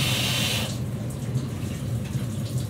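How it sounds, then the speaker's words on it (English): Shower head water streaming steadily while shampoo is rinsed off a peacock, a constant close hiss of spray that briefly changes tone near the start. "I bring it closer to the shower head to get as much of the shampoo out as possible."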